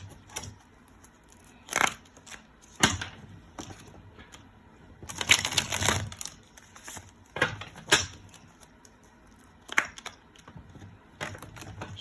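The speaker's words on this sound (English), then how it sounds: "Shuffle this deck real quick." A deck of playing cards being shuffled, with several short riffling bursts and a longer flurry near the middle, close and fairly quiet, separated by brief pauses.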